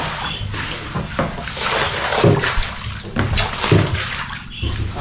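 Water splashes and sloshes close by in floodwater during a typhoon, irregular bursts of churning and splatter that run throughout without pause.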